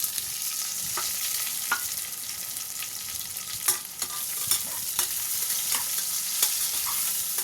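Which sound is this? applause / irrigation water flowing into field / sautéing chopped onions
sautéing chopped onions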